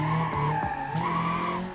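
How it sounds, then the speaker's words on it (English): A front-wheel-drive car in BeamNG Drive drifts with a sustained, wavering tire squeal over steady engine drone, loud and continuous, with a few brief bumps. "Drifting front wheel drive?"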